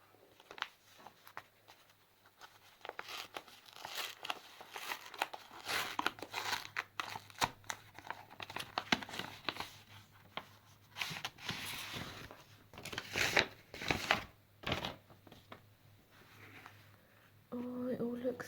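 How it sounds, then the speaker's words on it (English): A paper envelope holding secondhand zines is torn open and handled, giving crinkly rustling and tearing bursts close by, with some talk in the background. "I'm pretty sure I have a little clip of me opening the envelope for these"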